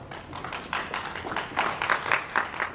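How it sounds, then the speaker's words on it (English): A small band of BBC staff gives a brief round of applause, scattered close-up hand claps rising and falling in irregular bursts for a few seconds with no talk. "A short round of applause from a small band of BBC staff"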